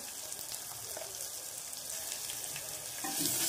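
Phodni for dal crackles in hot oil, a dense, even sizzle that holds steady and swells slightly near the end, with no voices.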